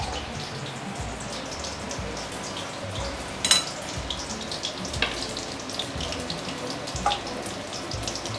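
Continuous soft sizzling and crackling of prawn fritters frying in hot oil, with a few sharper pops and spatters rising briefly above the steady bubbling, fairly quiet and without talk.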